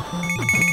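Short chiptune jingle from the Buff Knight 8-bit video game as a box opens, a quick run of bright electronic tones stepping up and down, fairly loud and alone.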